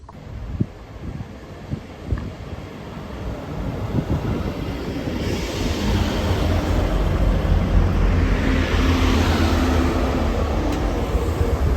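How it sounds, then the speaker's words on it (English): A train rumbles into Barnstaple station in Devon, growing louder with rushing noise and a low rolling roar, a few clanks early on, swelling and holding steady. "our train's coming into Barnstaple now"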